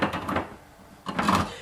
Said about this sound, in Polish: Dobra, teraz otwieramy puszkę.